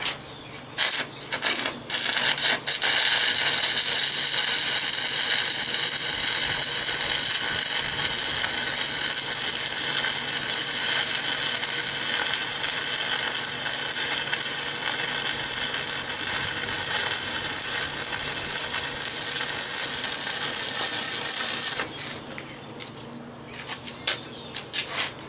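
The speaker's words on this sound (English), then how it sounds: "So I had to bring the stick welder out." Stick welder running a long continuous bead along the bottom seams of a dump truck bed, a loud steady crackling sizzle held for about twenty seconds, with short stuttering starts and stops at either end.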